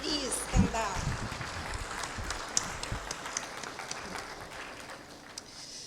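Applause from an audience at an international nuclear science olympiad awards ceremony, honoring the organizing board; a steady, moderately loud wash of clapping fills the whole stretch with a few sharper claps near the start.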